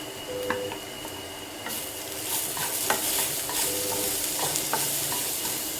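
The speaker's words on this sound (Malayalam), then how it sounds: "ഇനി ഞാൻ ഇടുന്നത് ഒരു 6-7 വെളുത്തുള്ളി ചതച്ച് വെച്ചതാണത്." Six to seven crushed garlic cloves sizzle and fry in coconut oil in a non-stick pan for a spicy dry coconut chicken masala, a steady close crackle with occasional stirring clicks and taps and no talking.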